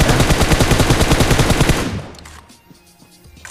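Rapid automatic gunfire from PUBG Mobile, loud and close, fires in an even stream of bursts for almost two seconds, then stops abruptly and leaves quieter in-game background sound.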